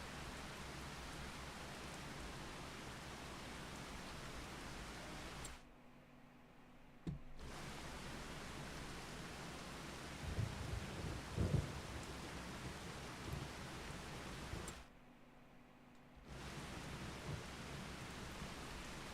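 Steady, dense rain pours across a Farming Simulator 25 farm with low thunder rumbling around the middle. The wash of rain drops out completely twice, then returns.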